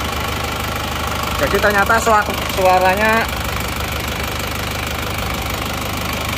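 A Panther car engine idling steadily after its engine mount was replaced, a continuous mid-pitched hum with a slight knock, as someone briefly talks over it partway through.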